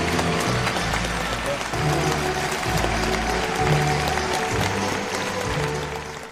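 Enthusiastic applause from participants at a closing ceremony, a dense steady clapping from a large crowd that carries on throughout before easing off at the end.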